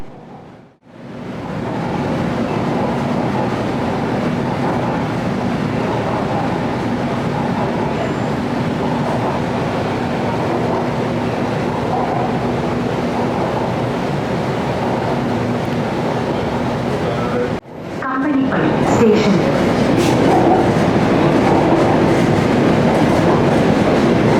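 A Kochi Metro train rumbles steadily along the rails with a constant clattering drone, then a brief drop before the noise resumes louder and harsher, close and continuous.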